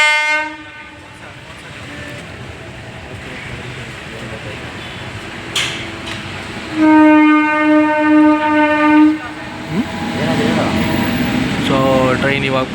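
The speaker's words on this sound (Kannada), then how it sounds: "ಸೊ ಟ್ರೈನ್ ಇವಾಗ ಪಾಸ್ ಆಯಿತು" A train passes a level crossing, sounding its horn in several long blasts over the rumble and clatter of wagons rolling by close up, then a second horn sounds as another passes.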